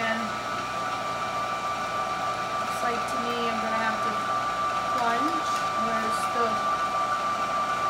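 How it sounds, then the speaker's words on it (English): A REBER Raw Rutes #3 electric tomato strainer, used here for apples, runs with a steady, loud motor whine that drones on unbroken throughout. "So I'm going to go ahead and start the raw roots REBER."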